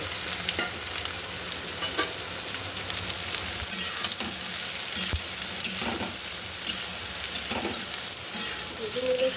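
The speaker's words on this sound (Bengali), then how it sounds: "এবার আমি সয়াবিনটা ভেজে নেব।" Soybean chunks sizzle and fry steadily in a hot pan with oil, a continuous close crackle broken by occasional stirring scrapes, with no one talking.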